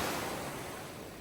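Sea waves make a broad, even wash of surf noise, dense and continuous, slowly fading over a short span with no voices.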